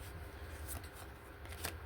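A deck of tarot cards is shuffled close up, giving a continuous rapid riffling and flicking with a few sharper snaps near the end. No one speaks.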